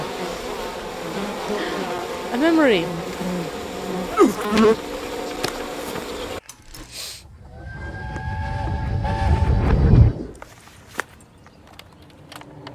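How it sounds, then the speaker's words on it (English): Bees in the video game We Happy Few buzz loudly and persistently amid game ambience and scattered clicks, with a brief spoken line near the end. "So many bees."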